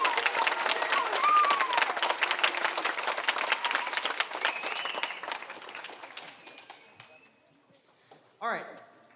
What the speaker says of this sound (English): Can we give one last round of applause to all of our seniors this year?